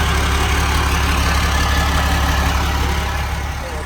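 A 2001 Amtran International bus with no muffler idles loudly and steadily, a dense continuous engine drone and rumble close by that barely changes, with no talking.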